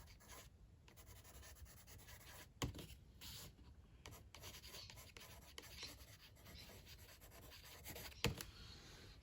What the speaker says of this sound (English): First thing I will always do is I will sketch out.